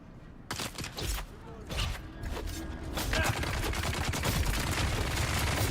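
Gunfire in the video game Dune Awakening: repeated sharp shots and bursts crackle through a dense, busy mix of game sound, growing steadier and louder in the second half.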